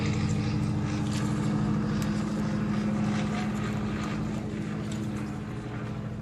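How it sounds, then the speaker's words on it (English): An antique biplane from a large collection of flying vintage airplanes passes overhead, a steady droning propeller engine hum that slowly fades as it moves away. "biplane flyover"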